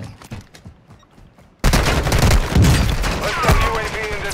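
Gunfire in the Warzone 2.0 video game, on the Vondel resurgence map, breaks out suddenly after quiet voices: a loud, sustained fusillade of rapid shots and thuds continues to the end, with players talking over it.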